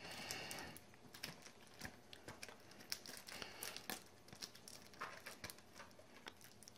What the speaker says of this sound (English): So they just have some cellophane wrap on here.